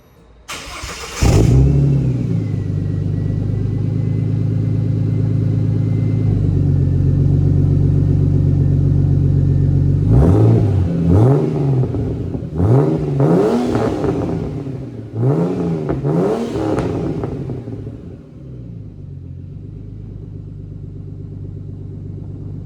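Turbocharged Barra engine in a Ford AU Falcon running a new exhaust, heard in a loud, steady low rumble after start-up, then four or five sharp revs climbing and falling in quick succession before settling back to idle.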